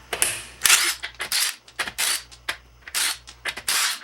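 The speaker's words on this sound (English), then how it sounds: "For the purpose of this video, I'm going to be using my impact wrench" Impact wrench loosening the bolts on a car wheel during a flat tyre change, a rapid series of loud close hammering bursts, each lasting a fraction of a second, separated by short pauses.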